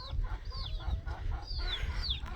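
Backyard chickens and a rooster cluck and chirp softly, with several short, high calls over a low rumbling background and no talking.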